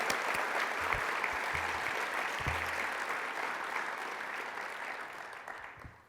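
An audience applauds inductees at a high school National Honor Society ceremony, a sustained, moderately distant roll of clapping in a large hall that thins and fades toward the end.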